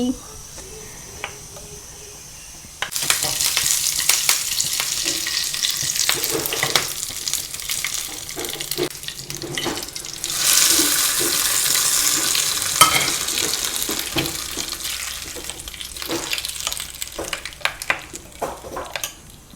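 Chutney is tempered in hot oil in a pan, starting with a quiet murmur and then bursting into loud, steady sizzling with intermittent stirring scrapes that slowly eases toward the end.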